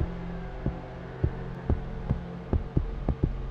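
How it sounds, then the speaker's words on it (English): Heartbeat sound effect from the video game Happy Game, a steady run of low thumping beats, some in doubled pulses, over a faint hum, clear and close with no talk. "Got my heart beating away."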